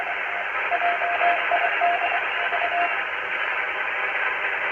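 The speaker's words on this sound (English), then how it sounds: "Not too much voice stuff, but a little bit of CW." Faint CW Morse code tones come through the hiss and static of a Kenwood TS-140S HF transceiver, short beeps barely above a steady wash of radio noise.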